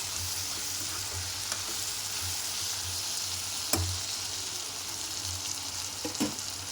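Ginger garlic paste frying in a pan for brinjal and green chilli curry, a continuous steady sizzle with a low bubbling pulse and an occasional spatula tap, close.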